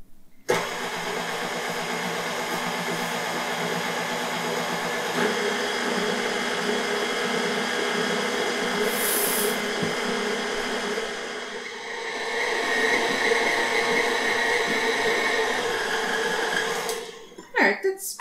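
A stand mixer motor runs steadily at mid speed, blending Moravian sugar cake batter, with a slight shift in pitch partway through and a clunk as it stops near the end.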